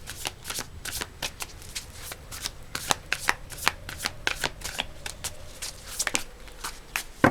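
A deck of tarot cards being shuffled by hand, a rapid string of crisp riffling snaps and soft slides, close and fairly quiet with no voices.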